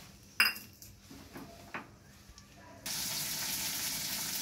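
Whole spices dropped into hot oil already holding onion, green and dried chillies and ginger paste: a few utensil clinks and taps, then a sudden loud sizzle that keeps hissing steadily.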